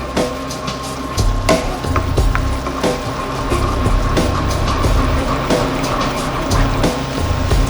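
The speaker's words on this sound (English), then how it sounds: "And you just slowly keep stirring it with your hand and your spoon." Sundried tomato and Boursin risotto being stirred by hand with a spoon in a pan, a steady wet sizzle with scraping and soft clinks throughout, close and fairly loud.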